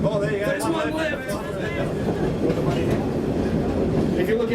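Savannahlander train running, heard from inside the cab as a steady rumble and rattle of wheels on track, with people talking continuously over it.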